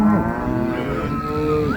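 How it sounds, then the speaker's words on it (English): Black Angus cattle mooing loudly and close by during herding on a Rocky Mountain foothills ranch, a sustained low bellow with a rising cry at the end. "Let's take these calves, Mark."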